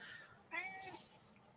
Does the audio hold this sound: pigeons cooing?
no